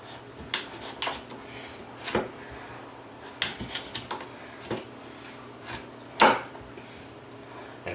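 A knife working at the tough skin of a butternut squash on a cutting board, a series of sharp irregular clicks and taps spread over several seconds, close and fairly loud, with no talking.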